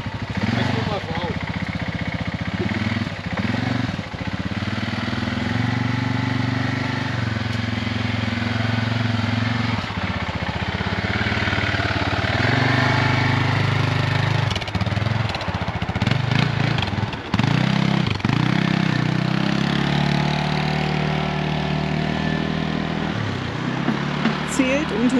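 A 2022 TGB Blade 600 quad engine runs with a steady, deep, tractor-like chugging drone throughout, rising and falling slightly in pitch as the throttle changes, with people talking over it.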